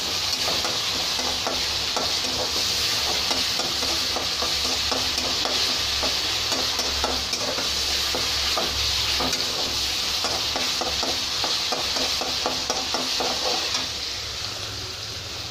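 Ginger garlic paste frying and being stirred in a pan for a tamarind-leaf chicken egg curry, a loud continuous sizzle broken by frequent scraping stir strokes, with no voices.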